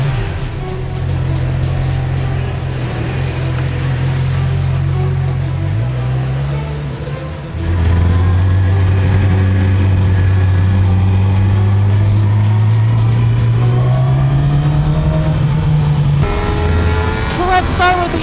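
A 2017 Yamaha YZF-R6 600 cc sport bike is ridden hard on a racetrack, its engine droning loudly and rising in pitch through the gears.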